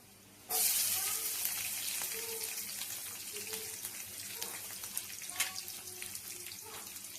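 Chopped onion hits hot oil in a pan while making poha, setting off a sudden loud hiss that settles into a steady, slowly fading sizzle, with a voice talking quietly underneath.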